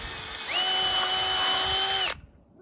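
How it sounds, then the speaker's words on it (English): A cordless power drill pre-drilling into wood for a DIY gate, a steady high whine that winds up, holds for about a second and a half at full speed, then cuts off abruptly, close and loud. "I'm gonna pre-drill with this with the other hand"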